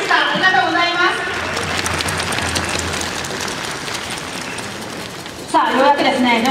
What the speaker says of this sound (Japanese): 大きな拍手によって確認をされました